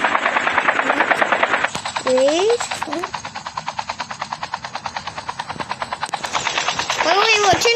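A loud, rapid rhythmic thumping of helicopter rotor blades in Call of Duty Mobile, steady and close, with a few bursts of game sound effects over it.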